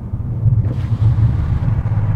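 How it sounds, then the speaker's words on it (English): A Bentley Continental SuperSports exhaust rumbles as a deep, throbbing low drone heard from inside the cabin, with pulsing swells and a brief crackle of backfire partway through. "The exhaust backfire is just so loud inside here."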